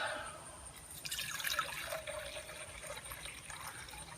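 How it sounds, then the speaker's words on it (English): Roughly 12 ounces of water is poured into a camping pot beside a Firebox Gen II stove, a soft trickling splash that swells briefly and then thins to a quiet dribble, heard close with no talking. "put about 12 ounces of water in there."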